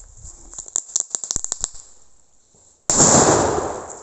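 Firecracker crackling in a rapid string of sharp pops, then after a brief quiet a loud, close burst of hissing, roaring sparks that holds and slowly fades.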